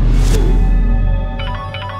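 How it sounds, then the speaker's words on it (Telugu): A phone ringtone sounds during a Telugu movie climax scene, with bright tonal bursts repeating in a short rhythm over a low, rumbling background. "ఫోన్ రింగ్ అవుతుంది చూడవే."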